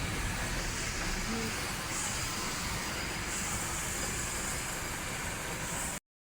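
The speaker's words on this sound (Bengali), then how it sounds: "সেখান দিয়ে টয় ট্রেন আর কি যাচ্ছে। এটা দার্জিলিংয়ে যাচ্ছে" Darjeeling toy train passing near Ghum, heard as a steady, moderately faint rumble and hiss of rolling wheels and engine that runs evenly throughout and ends abruptly, with no talking.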